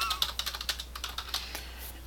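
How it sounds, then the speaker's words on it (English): Close, fairly quiet typing on a computer keyboard, a quick irregular patter of a dozen or so key clicks with short pauses and a faint steady hum beneath. "I'm just typing up what it says here."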